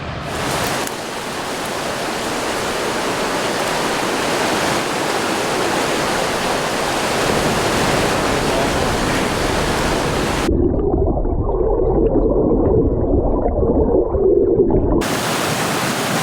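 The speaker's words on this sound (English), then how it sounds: "This is a waterfall" Constant broadband rush of a waterfall in wilderness by a river, loud and steady throughout with no voices, briefly muffled near the end before returning full strength.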